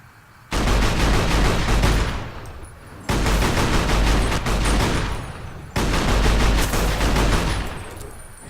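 Modded weapons in Fallout New Vegas fire in three long, loud sustained bursts of rapid gunfire, each lasting two to three seconds with short gaps between them, dominating the scene with no talking.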